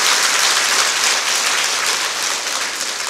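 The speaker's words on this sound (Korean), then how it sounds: "박수 한번 치세요" At a national tea-culture leaders' training gathering, an audience breaks into loud, sustained applause, a thick, even roar of many clapping hands heard close up that tapers only slightly toward the end.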